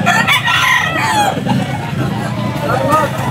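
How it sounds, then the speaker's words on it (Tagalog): A rooster crows loudly amid a noisy background at the Grotto pet market poultry section, with other fowl clucking and people murmuring nearby. "Mga quality manok ni Boss Hapon"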